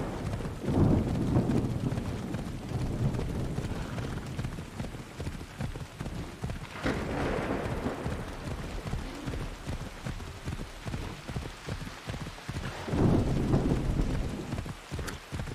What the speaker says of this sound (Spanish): La verdad es que se ha puesto a llover como muy repentinamente